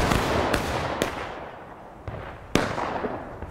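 Musket volley fire in a line-infantry skirmish game: several sharp cracks and scattered shots ring out irregularly, some loud and close, others fainter, each trailing off into a decaying rumble.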